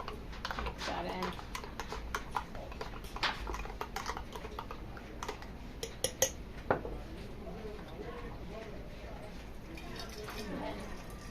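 A spoon stirs sugar into kombucha, giving a run of light, irregular clinks and taps against the container, fairly quiet and close.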